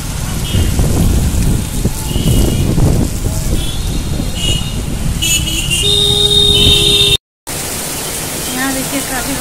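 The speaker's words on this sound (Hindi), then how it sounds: "यहाँ देखिए काफी बारिश हो रही है, बहुत ज्यादा, उम्मीद से भी ज्यादा।" Heavy rain pours down steadily and loudly at close range, a dense hiss throughout, with someone speaking over it, faint tonal sounds, and a brief dropout near the end.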